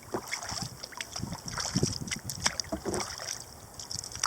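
A kayak paddle dips and pulls through the White Oak River near the Highway 24 bridge at Swansboro, rhythmic splashes and drips up close over light wind noise.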